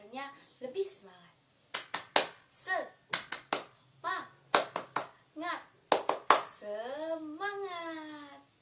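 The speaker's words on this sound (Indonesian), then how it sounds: "ayo kita tepuk semangat biar hari ini kita belajarnya lebih semangat." A rhythmic hand-clapping cheer, tepuk semangat, in a children's lesson: sharp claps in patterned groups interleaved with a chanting voice, close and dry, ending in sustained spoken or sung syllables.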